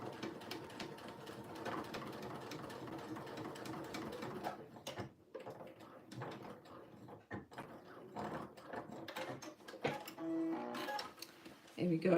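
A sewing machine top stitches a line on a jeans pocket, its needle whirring in short mechanical bursts with pauses, fairly quiet, while a person talks over it.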